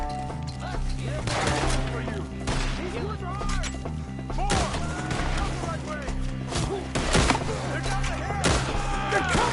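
Gunfire in Red Dead Redemption 2 during a shootout at men up in a tree, sharp cracking shots scattered irregularly across the stretch over a steady music bed, with characters shouting between the bangs.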